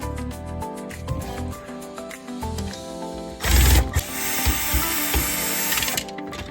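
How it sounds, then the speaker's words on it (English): A power drill drives screws into an old plastic toy blaster, with rapid ratcheting clicks and short whirring bursts, then a louder sustained grinding burst as a screw seats tightly, close and alone. "They don't like that drill too much, which makes sense, because this makes a tight fit."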